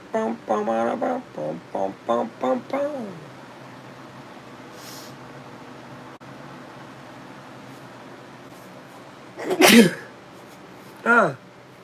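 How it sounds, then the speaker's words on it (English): A loud, sharp sneeze bursts out near the end, followed moments later by a second one, after a stretch of voice and quiet room noise. "Sneezing and stuff."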